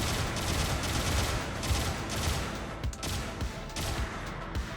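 Gunfire in the mech game Gundam Battle Operation 2 as a mobile suit shoots about 17 times to break a target, a fairly quiet rapid run of repeated shots with a dense, rumbling game mix underneath.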